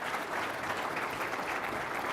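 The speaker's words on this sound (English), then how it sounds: "How about a round of applause for this amazing panel?" A dense, even round of applause for a panel at a military NCO conference, many hands clapping steadily from a seated audience, filling the room without pause.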